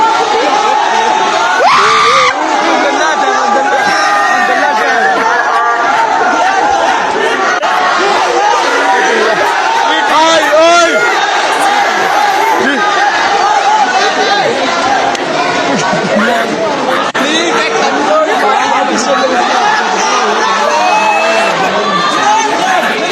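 A dense crowd of university students yells and chants in a loud, continuous roar, with overlapping shouting voices and whoops that never let up.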